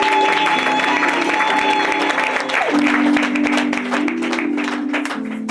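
A church congregation claps and cheers during a French-language worship service, loud and sustained throughout, with voices and a sung or held tone mixed into the crowd.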